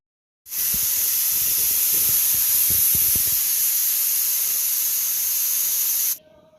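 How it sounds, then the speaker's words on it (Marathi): A pressure cooker holding washed pigeon peas lets off steam, a loud sustained hiss that starts abruptly and holds steady for nearly six seconds before stopping. "याला कुकरला दोन ते तीन शिट्ट्या करून घेऊ"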